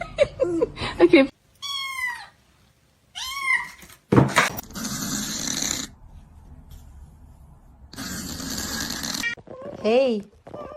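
A cat meows several times up close, drawn-out rising and falling cries separated by short pauses and some rustling.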